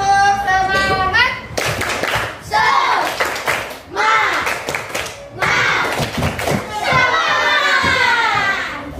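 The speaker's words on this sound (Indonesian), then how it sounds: "Tepuk semangat." A classroom of children performs a rhythmic tepuk semangat spirit clap, loud patterned clapping with bursts of group chanting and shouting throughout.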